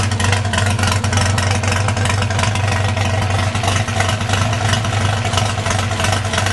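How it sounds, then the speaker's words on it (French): A classic Alpine 1600S engine idling at about 700 rpm on a test bench, not yet fully warm: a loud, steady, continuous low rumble with a constant mechanical drone and no speech throughout. "Là, on a ralenti, c'est autour de 700 tours, c'est pas mal."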